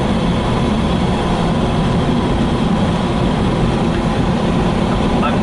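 Land Rover Discovery 2 with a DIY Mantec-type snorkel accelerating on the highway, a loud steady engine and road roar with no break and no talk.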